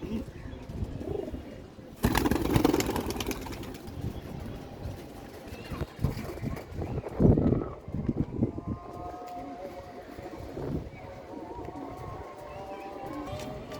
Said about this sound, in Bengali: এই যে আপনাদের একটা কবুতর দেখাই